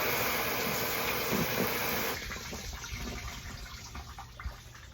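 Water pours steadily into a Vevor 100-gallon collapsible rain barrel, a close rushing splash that drops partway through to a quieter, irregular trickle.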